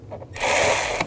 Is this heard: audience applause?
no